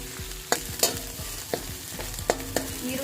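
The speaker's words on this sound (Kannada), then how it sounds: "ಚೆನ್ನಾಗಿ ಫ್ರೈ ಮಾಡೋಣ." Onion, green chillies and curry leaves frying in a pan for a moong dal sambar, a steady close sizzle with several sharp scraping stirs of a spoon against the pan, no voices.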